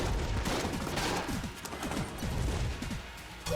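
Rapid bouncing gunshots from the video game Enter the Gungeon, a dense loud fusillade of clattering shots and ricochets throughout, without talk.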